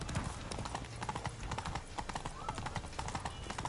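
Horse hooves clip-clop steadily at a brisk, even rhythm in The Witcher 3, close and continuous throughout, with a faint voice briefly over the steps.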